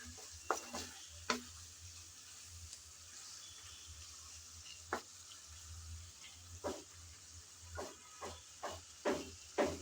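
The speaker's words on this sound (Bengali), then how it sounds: "আবারও অপেক্ষা করব যেন টমেটোটা ভালোভাবে কষিয়ে যায়।" Tomatoes cooking down in a pan with chili for a turnip and kohlrabi curry, giving a soft steady sizzle and hiss with occasional louder clinks and stirring scrapes, close and otherwise quiet.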